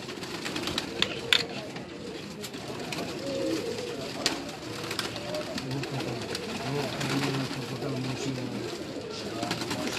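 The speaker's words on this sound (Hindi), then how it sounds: "ये भी इनके परवाजी कबूतर हैं" Flying pigeons coo softly in a loft amid steady bird chatter and background noise, with someone talking over them.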